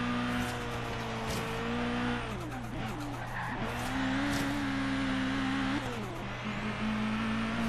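A racing car in Forza Horizon 3 works through corners, its engine note falling and climbing between gear changes while tires squeal and skid in short bursts.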